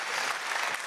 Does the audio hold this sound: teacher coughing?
no